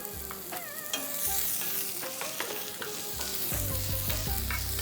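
Finely chopped onion frying with garlic in a hot tadka, a busy bright sizzle with repeated metallic stirring clinks and scrapes, loud and close with no talk.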